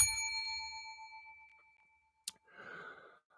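A bell rings once with a clear ding that slowly fades to silence, then a short click and a soft sigh or breathy noise follow.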